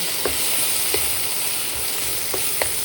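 Ginger-garlic paste sizzles steadily in a hot pan for chicken curry, a dense close hiss with a few soft stirring clicks.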